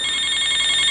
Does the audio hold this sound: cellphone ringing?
yes